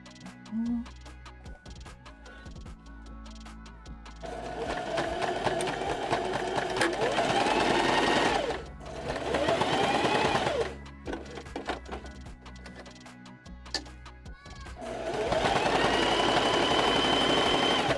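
Sewing machine stitching in a shop, running in several long bursts with a rapid mechanical whir, pausing briefly between runs.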